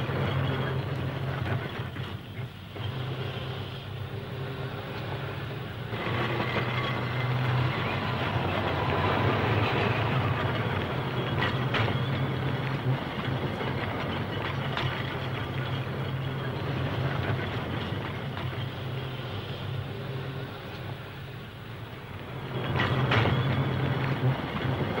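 Vintage Blackpool trams running along the line during the system's 75th anniversary, a steady rumbling roll with faint clickety-clack and metallic squeals, moderately loud throughout.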